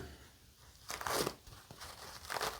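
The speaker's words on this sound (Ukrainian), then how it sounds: "залишки олійки я прибираю серветкою" Paper napkin crinkling and rustling as leftover oil is wiped away, two bursts of crumpling close up in a quiet room.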